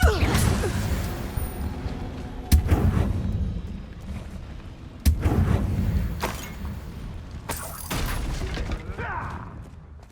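Blasting Confringo spell explosions in the video game Hogwarts Legacy, three sharp loud bursts spaced a few seconds apart, each followed by crashing, rumbling debris, with a voice shouting in between.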